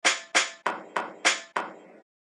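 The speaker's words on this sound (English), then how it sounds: "They dabbed at the drums with glue and tapped at them with tiny hammers." Tiny hammers strike drums in a guitar and drum workshop: six crisp, evenly spaced taps, each ringing out and decaying briefly. They are close and clear, with no talk.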